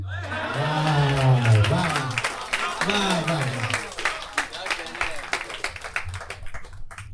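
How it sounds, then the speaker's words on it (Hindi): Audience clapping at a mushaira poetry recital. It starts under a sustained sung or recited voice, then continues as scattered applause from a crowd. "जिस तरीके से सबकी तालियां बज रही हैं"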